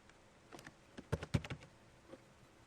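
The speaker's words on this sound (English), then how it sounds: "I'm going to type in the deal name." Computer keyboard typing, a short burst of close key taps clustered in the middle with a few scattered clicks before and after, quiet and with no talking.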